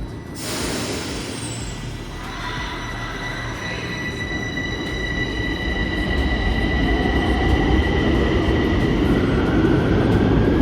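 A metro train rumbles steadily along the tracks, growing louder, with high metallic wheel squeals and tonal whines ringing over the low roar.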